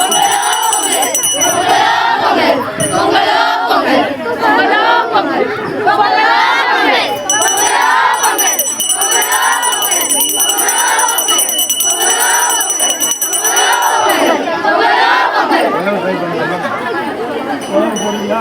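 A large crowd at a Pongal festival celebration at a women's nursing college loudly shouts a rhythmic chant, with repeated surging calls in steady waves and no pauses.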